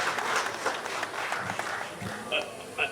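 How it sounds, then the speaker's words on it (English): An audience at an International Overdose Awareness Day event gives another round of applause, a steady even clatter of many hands, with a voice and a few louder cheers briefly rising above it. "can we give another round of applause to these brave women"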